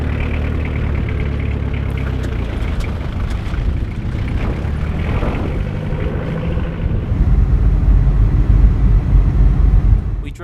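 A Jeep XJ engine runs steadily while driving on a road trip in Norway, a continuous low rumble and drone that swells louder toward the end.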